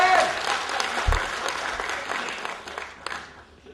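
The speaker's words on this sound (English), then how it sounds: "You gotta clap it!" An audience claps at a Lean Six Sigma talk in Singapore, a steady wash of applause that tapers off toward the end, with a voice briefly audible over it.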